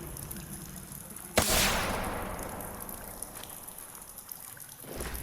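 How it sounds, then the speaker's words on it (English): A single loud pop of a flare gun fired inside a cave in The Forest, followed by a long hissing, fizzing burn that slowly fades, with faint cave ambience around it. "I'm gonna shoot a flare."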